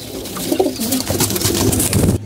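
Close, rolling pigeon coos overlap in a continuous murmur, fairly loud, with no one talking.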